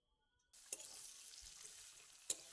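Boiled broiler meat and half-boiled potatoes are stirred in a pot, giving a soft, steady sizzling hiss up close, broken by two brief clinks of the utensil.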